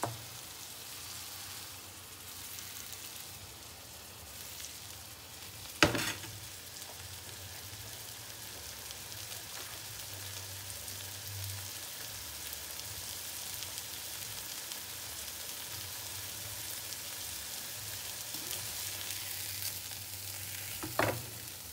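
Steak fries in a pan with a coconut drizzle, a steady, soft crackling sizzle that continues throughout, broken by a couple of sharp clacks near the start and end.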